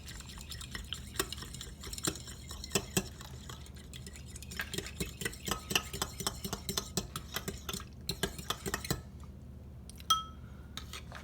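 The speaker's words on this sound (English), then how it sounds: "I'm going to go ahead and start to whisk that into my wet mixture as well." Extra virgin olive oil being whisked into a wet flatbread mixture in a bowl: a rapid, steady run of close clinking and tapping whisk strokes that continues throughout with no talking.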